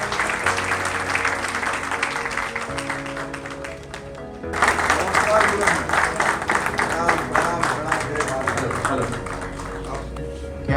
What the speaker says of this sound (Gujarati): બધા માટે તાળીઓ એકવાર થઈ જાય